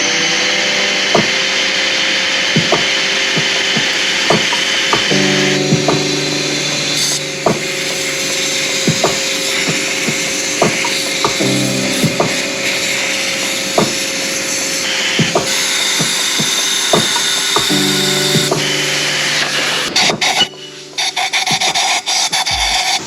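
Wire brush scrubbing carbon buildup off BMW N54 engine parts, a steady abrasive rasping that runs continuously with repeated back-and-forth strokes and small knocks, close and fairly loud.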